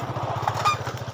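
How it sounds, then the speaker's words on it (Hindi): A motorcycle engine putters steadily nearby on a jungle road, its low, even chugging pulse holding at a constant level throughout with no voices over it. "मोटरसाइकिल आ रहा है, साइड दे देते हैं"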